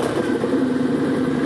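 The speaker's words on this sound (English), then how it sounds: "I'm just going to blip the throttle at first." A Kawasaki Vulcan 900 Custom SE motorcycle with Cobra Swept exhaust gets a quick throttle blip, its mid-pitched engine note rising briefly above a steady close-up idle.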